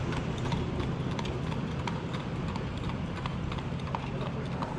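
Steady clip-clop of horse hooves against a constant, noisy outdoor rumble, the hoofbeats faint and regular throughout.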